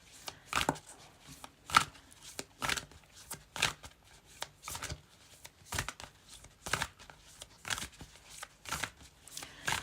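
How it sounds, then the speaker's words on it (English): A deck of tarot cards being shuffled, with repeated crisp riffling bursts in a steady rhythm, close and fairly loud, with no talking. "let me give this deck a shuffle as well"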